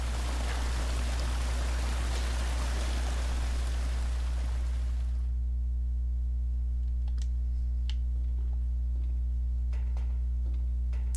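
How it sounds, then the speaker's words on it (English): Water filling up in the Resident Evil 0 video game, a loud rushing, pouring stream for about five seconds that cuts off, followed by quieter ambient hum and a few faint ticks and clicks. "And now we can fill it up with water now that Billy's out of there safely"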